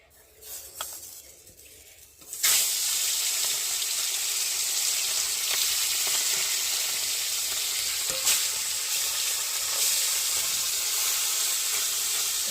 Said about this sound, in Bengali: এটা গরম হয়ে গেছে, আর আমি এখন একে একে মাছগুলো দিয়ে ভালো করে ভেজে নেব।